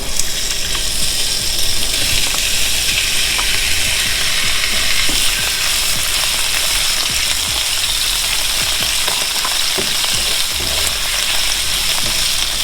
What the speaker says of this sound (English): So I'm gonna go ahead and saute the shrimp first.